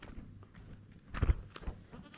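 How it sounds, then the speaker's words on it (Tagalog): A goat on a livestock farm bleats in a few short, uneven calls amid scattered farmyard rustling and shuffling, with one louder bleat standing out near the middle. "dito yung kambing natin"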